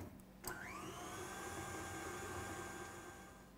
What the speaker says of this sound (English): we're going to beat this on medium speed until it's well blended. It's a good idea to stop the mixer and scrape down the bowl